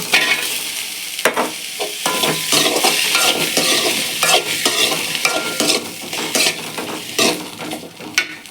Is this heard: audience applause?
no